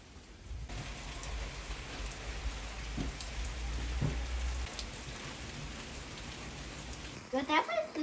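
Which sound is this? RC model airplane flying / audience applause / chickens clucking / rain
rain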